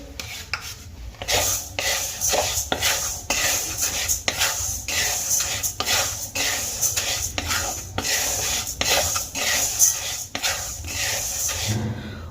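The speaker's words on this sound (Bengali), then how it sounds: "মুগ ডালগুলো খুব ভালো করে নাড়িয়ে চাড়িয়ে আমি ভেজে নেব" Mung lentils are dry-fried in a hot wok, with a spoon scraping and stirring in steady, rhythmic strokes that rasp and rattle loudly and continuously.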